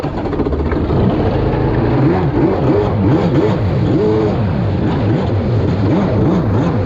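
A loud jet ski engine drones and revs up and down in repeated swells, the pitch rising and falling as it moves nearby, with no talking.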